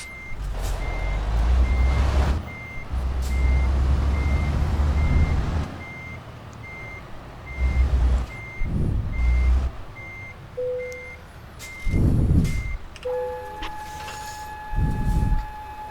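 Repeated reversing beeps from a truck backing onto its trailer in Euro Truck Simulator 2, a steady evenly spaced pulse sounding over bursts of low engine rumble and a few other brief tones.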